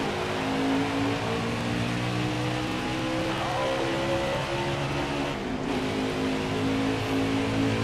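Race cars launching at the start of a virtual race at Atlanta in a racing video game, a dense steady engine roar with layered revving tones held loud and continuous throughout, cars running three wide.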